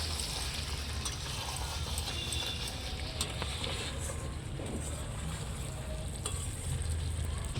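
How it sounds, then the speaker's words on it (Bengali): Mutton curry frying in a pan as a home cook braises the meat, a steady close sizzle running throughout with occasional scraping and stirring clatter, no voices. "মাংস কিন্তু আমার অর্ধেক কষে এসেছে"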